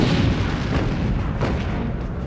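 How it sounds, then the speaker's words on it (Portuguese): Booming naval gunfire from the 127 mm guns of the destroyer USS Laffey, a dense, loud, continuous roar of overlapping blasts filling the whole stretch. "Os canhões de 127 milímetros do USS Laffey abrem fogo."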